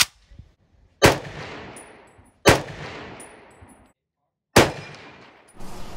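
An M1 Garand rifle fires commercial ammunition, with three loud, sharp reports spaced a second or more apart, each trailing a long outdoor echo, plus a faint metallic ping after the shots.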